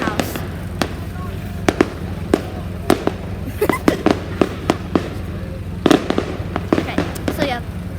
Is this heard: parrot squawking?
no